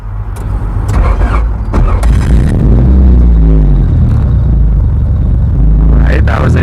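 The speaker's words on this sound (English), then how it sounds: "Get a cold start of that. It's really loud." A loud car engine cold-starts and roars into a rough, rumbling idle, close and dominant, with brief clunks and bangs early on and voices talking over parts of it.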